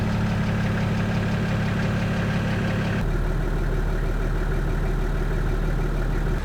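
A car engine running steadily, heard from inside the cabin as a constant droning hum that shifts in tone partway through and then holds a smoother, lower drone with no voices over it.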